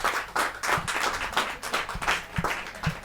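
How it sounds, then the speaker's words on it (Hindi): Audience clapping at a Hindi poetry gathering (kavi sammelan), loose uneven claps with several sharper hand strikes, moderate and fairly close, continuing for a few seconds without speech. "क्या तालियां बजे तो ढंग से बजे ना।"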